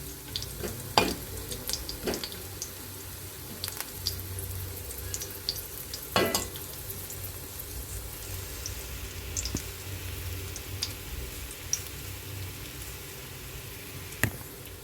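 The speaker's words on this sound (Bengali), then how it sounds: "গোটা গরম মশলা ফোড়নে দিয়ে নিচ্ছি" Whole garam masala frying in tempering oil for chicken stew, a soft steady sizzle with occasional sharp clicks and spatula taps against the pan, fairly quiet throughout.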